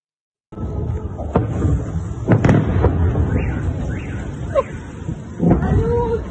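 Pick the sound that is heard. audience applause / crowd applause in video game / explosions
explosions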